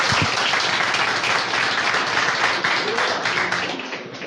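A church congregation applauds in a dense, loud roar of many clapping hands that holds steady and then tapers off slightly at the end, with no speech on top.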